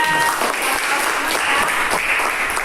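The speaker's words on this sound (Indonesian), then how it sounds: "tepuk tangan untuk kita semuanya" Steady applause from a class of students fills a classroom, loud and close, lasting the whole stretch with no break.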